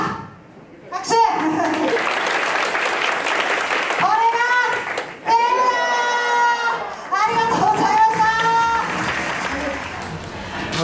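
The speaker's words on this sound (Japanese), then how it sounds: "拍手。" An audience at a women's wrestling event at Shinjuku FACE in Tokyo claps in dense bursts, broken by someone speaking over a microphone and a shouted call and response from the crowd.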